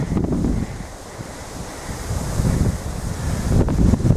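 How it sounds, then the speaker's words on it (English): Strong wind on a mountain summit near Mount Kunimiyama buffets the microphone in heavy, uneven gusts, a constant low roar that rises and falls with no voices. "the wind is getting stronger"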